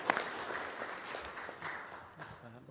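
Applause at a county fiscal court meeting rises as a soft, diffuse patter from a modest group, with voices murmuring underneath throughout.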